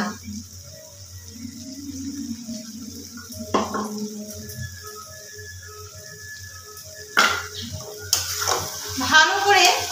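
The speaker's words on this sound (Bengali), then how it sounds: "ভালো করে নাড়াচাড়া করে নিতে হবে এবং মশলাগুলোকে সমস্ত মিশিয়ে দিতে হবে" A metal spoon scrapes and clatters in a pan as boiled, spiced potatoes for Bengali aloo dum are stirred and mixed with masala, a soft continuous clinking with a few sharper knocks, under a person talking.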